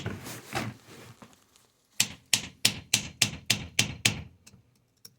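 A hammer strikes a chisel driven into the case of a Wheelhorse garden tractor transmission to split it, a few irregular taps followed by a quick steady run of about nine sharp metallic blows, close and alone.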